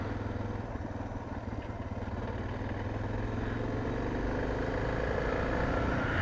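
A Suzuki DR650 motorcycle on a slow autumn ride home from camping, its steady mid-pitched engine thrumming loudly and continuously with wind rush and slight clatter, no voices.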